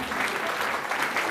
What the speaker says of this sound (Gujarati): ભીમાશા દાતા માટે જોરદાર તાળીઓ થઈ જાય સાહેબ